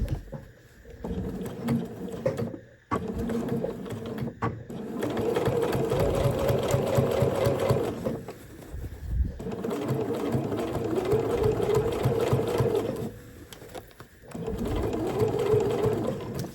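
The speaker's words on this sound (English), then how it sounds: "We're just going to sew down the edge of that binding there" A sewing machine stitches down the binding edge on a zip pouch, running in long steady bursts with brief pauses between, close and loud.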